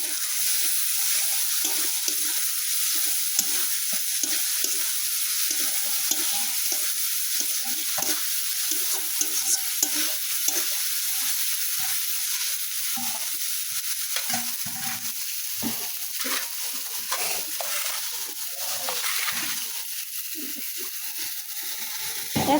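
Spice masala sizzles and hisses in hot oil while being stirred, a dense continuous fry with scraping stirs rising through it; no one talks.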